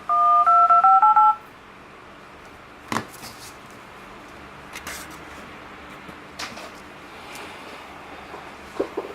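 Keypad dialing tones on a Zopo smartphone: a quick run of about four clear electronic tones at the start. Faint, scattered touch taps follow in quiet surroundings.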